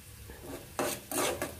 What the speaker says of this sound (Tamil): நான் பார்த்தீங்கன்னா காய்கறி நறுக்கிற கத்தியை வச்சே வதக்குறேன்